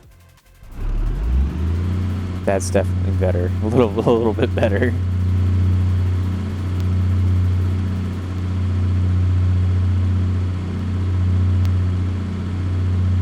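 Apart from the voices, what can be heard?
generator engine running with new exhaust, BeamNG video game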